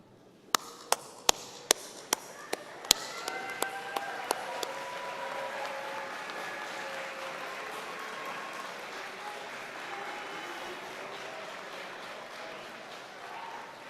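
Graduates at a Clarke University commencement applaud their supporters: a few sharp claps at first, then a steady, fairly faint wash of clapping from a large seated crowd. Some voices murmur beneath it.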